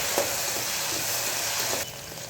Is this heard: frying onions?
yes